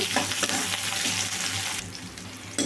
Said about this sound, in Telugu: ఉల్లిపాయ ముక్కలు చిన్న ముక్కలుగా కట్ చేసుకున్న ఉల్లిపాయ ముక్కలండి. కరివేపాకు. వీటిని వేయించుకోవాలండి.